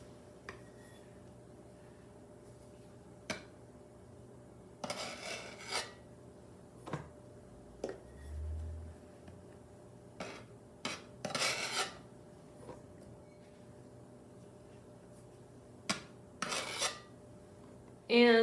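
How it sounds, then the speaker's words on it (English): All-purpose flour being measured into a large bowl for homemade dinner rolls, heard as scattered soft rasping scoops and brief scraping rubs of a utensil against the bowl, with quiet gaps between strokes and one low bump. "A large bowl, measure 3½ cups of all-purpose flour."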